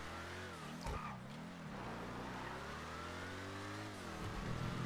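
Police car engine in a racing video game, droning steadily and revving up and down with a brief surge near the start, loud and continuous throughout, with no talking.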